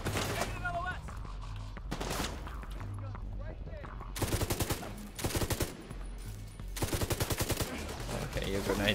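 Sniper and automatic gunfire in the shooter game The Division 2, with dense bursts of loud rapid shots in several volleys, while players talk and shout over the firefight.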